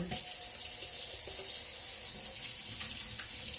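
Hands washed under a running kitchen tap, a steady close hiss of water splashing into a sink, unbroken and alone.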